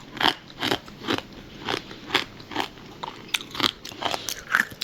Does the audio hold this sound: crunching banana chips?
yes